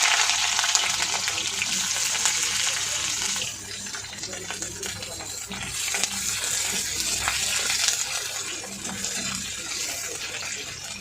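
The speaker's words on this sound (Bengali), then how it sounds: "তেলটা গরম হয়ে গিয়েছে, পেঁয়াজ ভেজে দিচ্ছি ফার্স্টে।" Onions frying in hot oil, a steady broadband hiss that runs throughout, loud and close, with slight swells in intensity partway through.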